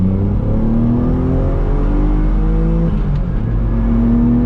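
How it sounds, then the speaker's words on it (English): Mitsubishi 3000GT VR4 turbo engine pulling hard under acceleration, a loud close rising drone with climbing harmonics that dips briefly around a shift, then keeps building. "When the turbo picks up, it really starts to fly and it doesn't stop until you shift."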